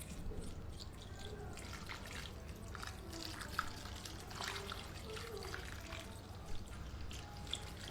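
Room-temperature water is poured into lentils for dal, a faint, continuous trickle and splash with a few small drips.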